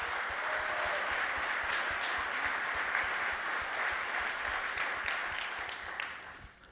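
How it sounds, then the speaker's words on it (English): A keynote conference audience applauding steadily, a dense, even wash of clapping throughout that fades out at the end, with no speech over it. "So give a round of applause to all of our launch partners."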